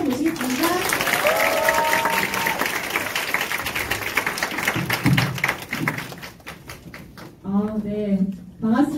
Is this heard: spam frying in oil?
no